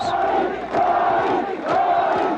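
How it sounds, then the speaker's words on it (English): Tens of thousands of supporters packed into a main street cheer and chant for a defense minister in the Philippines. The loud crowd roar rises and falls in rhythmic chanting waves. "The defense minister reaching the main street greeted by tens of thousands of cheering supporters"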